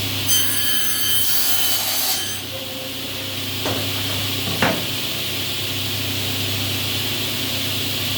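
Saw blade cutting into wood: a loud, whining, buzzy cut lasting about two seconds, then a steady motor drone with a couple of soft knocks.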